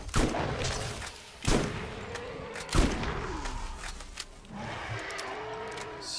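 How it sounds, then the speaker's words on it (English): Shotgun blasts in the video game Borderlands, three sharp booming shots spaced about a second apart over steady game ambience and background music. "that shotgun's doing pretty good on these guys up here"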